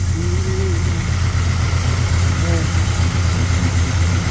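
A 1965 Chevrolet Impala with a 400 small-block engine, dirty from the body shop, idles steadily with a low, even rumble, close by and constant, with faint voices in the background.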